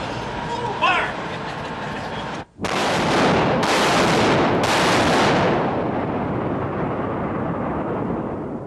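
A battleship's 16-inch gun fires, a sudden massive boom with rumbling follow-up blasts and a long roaring decay, loud and close after a brief moment of silence.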